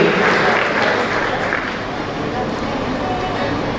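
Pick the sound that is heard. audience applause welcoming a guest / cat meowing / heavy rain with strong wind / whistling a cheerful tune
audience applause welcoming a guest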